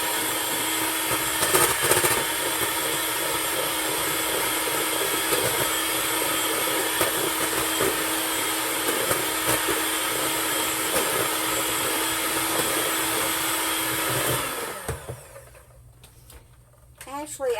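An electric mixer whirs steadily and loudly for about fourteen seconds as it beats egg whites with a teaspoon of vanilla in a home kitchen, then cuts off and leaves a brief quiet with faint talk.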